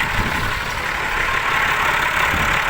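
A Massey Ferguson 3085 tractor engine runs at a steady idle, a continuous close diesel rumble with no breaks across the short stretch.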